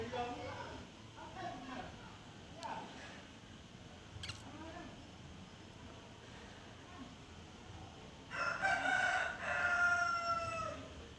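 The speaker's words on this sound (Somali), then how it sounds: "digaag baa agteyda ka qaylinaya" Chickens and a rooster call close by in a neighborhood yard, with scattered clucks early on and a louder burst of crowing and squawking near the end over steady background noise; a person speaks briefly.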